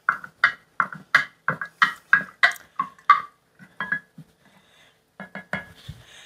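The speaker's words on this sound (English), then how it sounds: "First thing I'm going to do is I'm going to stir." A spoon stirs homemade apple scrap vinegar with a mother settled in a jar, giving a quick series of close, sharp clinks and scrapes in an uneven rhythm, with a short pause before a few final strokes.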